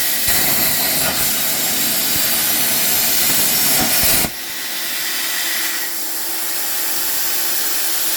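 An ArcDroid CNC plasma cutter slices metal on a water table, running with compressed air to give a loud, steady roaring hiss. Partway through it drops to a lighter, quieter hiss, with no voices.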